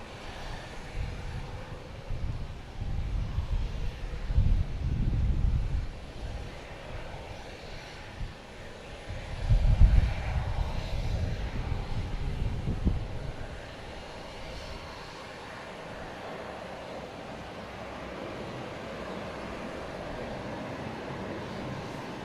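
An American Airlines jet in Allegheny retro livery rumbles at Boston Logan Airport, its low engine roar surging twice in strong swells before easing to a steady distant hum.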